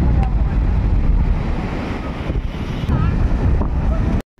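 Steady wind buffeting and rushing surf on an open beach, loud and continuous for a few seconds before cutting off abruptly at the end, with no voices.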